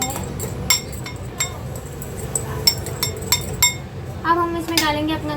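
A utensil clinks and taps against a bowl in sharp, irregular strikes as cucumbers are mixed into potato noodles, with a brief voice near the end.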